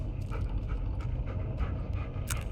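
Bullet the dog pants in the Blair Witch video game, quick soft breathy puffs in a steady rhythm over low rumbling game ambience.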